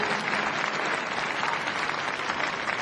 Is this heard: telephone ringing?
no